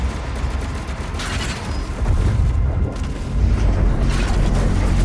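BFG 10,000 superweapon firing in the Doom video game, a sustained, dense, loud rumbling roar of heavy booms and blasts that swells over several seconds, with no voices.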